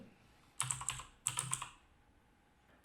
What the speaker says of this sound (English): I'm going to type in Sundar